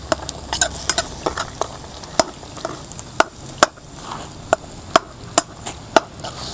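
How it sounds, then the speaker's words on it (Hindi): Mutton karahi cooking in ghee in a karahi, with steady background sizzle of frying under sharp repeated clicks and scrapes of a spoon stirring against the pan, no talk. "इसको हम अभी इसी घी में जो है फ्राई करना है।"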